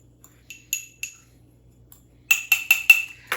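A utensil clinks lightly against a metal sheet pan while tossing chicken, sausage, vegetables and feta, first as a few sparse taps, then a quick run of louder scraping clinks near the end.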